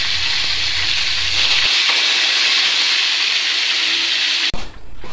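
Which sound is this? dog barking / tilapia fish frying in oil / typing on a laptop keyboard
tilapia fish frying in oil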